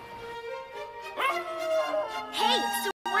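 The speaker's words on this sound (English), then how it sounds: "Hey, it's the wild dogs!" Wild dogs bark and yip in an animated film scene, a quick series of bright, high barks and whimpering calls, close and clear over a soft background.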